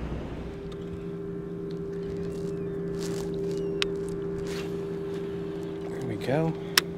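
An outboard boat motor runs steadily on the open water of Offats Bayou, Galveston Island, Texas, giving a constant droning hum with wind noise and a few brief knocks and rattles near the end.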